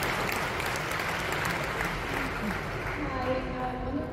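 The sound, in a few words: audience applause at a convention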